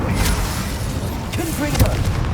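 A Bombarda spell explosion in the video game Hogwarts Legacy: heavy, booming blasts and rumbling impacts over continuous game noise, with a sharp burst near the end and a voice talking over it.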